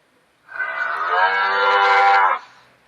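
A cow lets out a single long, drawn-out moo, loud and steady, swelling slightly before cutting off, with nothing else around it.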